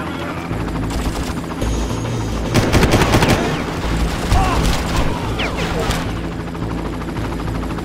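A helicopter in the video game Far Cry thrums steadily beneath a burst of gunfire and booming impacts, the rotor drone persisting loud throughout while shots crackle in the middle.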